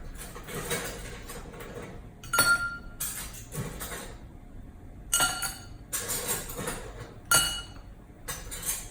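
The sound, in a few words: cocktail glass clinking as it is chilled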